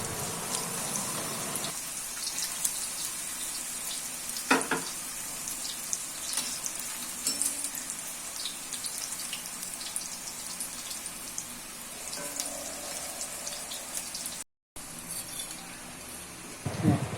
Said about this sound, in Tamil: வெட்டி வச்ச வாழைக்காவை இதோடு சேர்த்து ஃப்ரை பண்ணி எடுத்துக்கிறேன்.